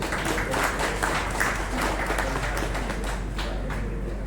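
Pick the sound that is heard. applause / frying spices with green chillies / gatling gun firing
applause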